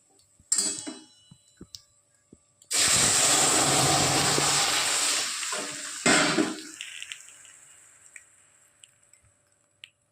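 Mango dal poured into hot oil tempered with mustard seeds and dried red chili, bursting into a loud, close hissing sizzle that holds for a few seconds and then fades to scattered pops and ticks.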